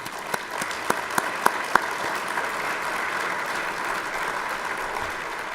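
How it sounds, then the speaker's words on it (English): A conference audience claps, with a few sharp individual claps rising into a steady, sustained round of applause that carries on evenly to the end. "Round of applause for Katie."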